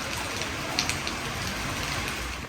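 Steady rain falls in Muscat, Oman, a dense, even hiss of drops on surfaces that runs unbroken throughout, with a couple of faint splashy ticks near the start.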